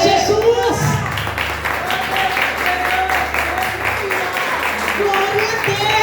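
A church congregation claps in a rhythmic, steady patter of many hands while voices shout and call out over the applause throughout.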